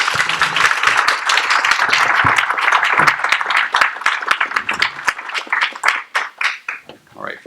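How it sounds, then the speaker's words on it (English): An audience claps after a lecture on stem cell therapy, with dense applause that thins into scattered individual claps and then fades out. "Let's give him one more round of applause."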